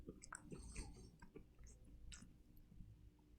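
Quiet close-up crunching of a small, crunchy, cornbread-like Japanese pineapple snack, with soft irregular bites and chews at a steady pace and no talking.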